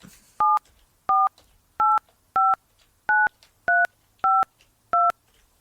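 A run of eight evenly spaced DTMF keypad tones from a phone being dialed, each a short, clear two-note beep with brief gaps between them, close and loud with no talking.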